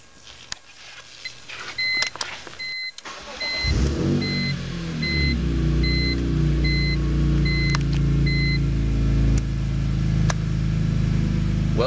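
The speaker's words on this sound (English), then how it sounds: "definitely hear that exhaust" A 2005 BMW M3 convertible engine starts with a whirr of the starter around the third second, then settles into a loud, steady idle with a deep exhaust burble that holds, close up, through the rest.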